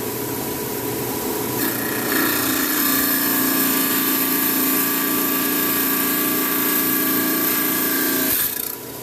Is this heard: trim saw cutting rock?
yes